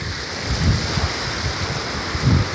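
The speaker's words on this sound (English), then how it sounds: "You hear the lake." Gentle lake water laps against a shore in soft, irregular swells, mixed with steady breeze and wind noise; no one speaks.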